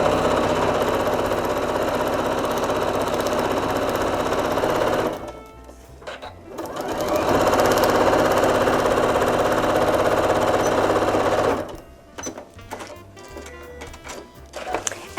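A sewing machine stitches fabric for a paper-pieced latte mug in two steady, rapid whirring runs, each about five seconds long and separated by a brief pause with light handling noise.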